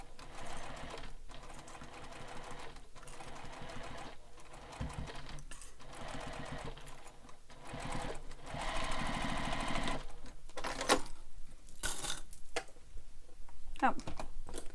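A sewing machine stitching a Manhattan bag, bursts of rapid rhythmic needle chatter starting and stopping, growing louder and busier toward the end, with a voice talking intermittently over it.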